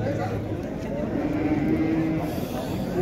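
Cattle moo at the Şarkışla livestock market in its large-animal section. The low, drawn-out lowing rises over a constant din of market background noise.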